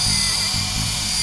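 A Helimax Novus FP 200 fixed-pitch RC helicopter flies nearby, its rotor and motor making a loud, steady whine and buzz with a constant pitch and no talking.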